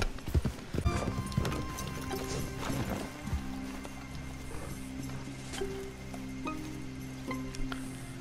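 In Red Dead Redemption, rhythmic hoofbeats of a galloping horse drum steadily throughout, with a horse whinny early on and a faint music-like hum underneath.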